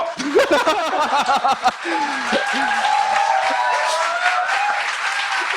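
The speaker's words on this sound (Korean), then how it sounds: "박수 그만 쳐!" Crowd at a Korean political campaign speech clapping and laughing together, with a voice talking over the clapping and chuckles early on before a steadier wash of applause and laughter carries through.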